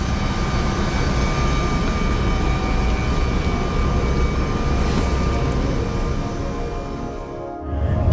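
A loud, steady roar of aircraft engines fills the air near an airport gate, a constant broadband rumble that eases slightly near the end.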